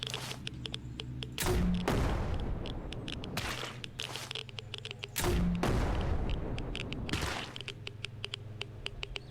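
Grenade launcher firing in the SurrounDead survival game, two heavy booming blasts a few seconds apart, each followed by a rumbling decay, with lighter rapid clicks and shots around them.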